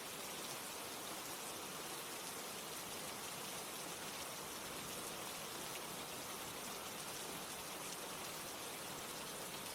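Steady rain falls in a dense, even hiss that never lets up, soft and constant throughout with no voices.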